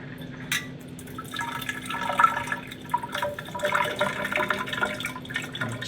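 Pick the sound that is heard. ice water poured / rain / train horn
ice water poured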